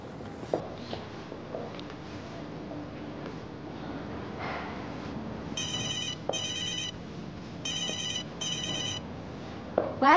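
A telephone rings indoors in a drama scene, four bursts of electronic trilling ringtone in two pairs, after quiet rustling and breathing.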